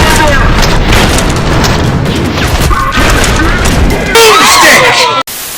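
A Spaz 12 shotgun fires in the video game Trepang2, its loud booming blasts overlapping in dense succession. Heavy crashing impacts follow, then the sound cuts off abruptly.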